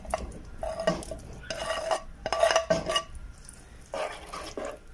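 Chicken going back into a pot of thick pasta sauce and being stirred, with bursts of spoon scraping and clanking against the pot and soft wet sloshing in between, close and clear with no talking.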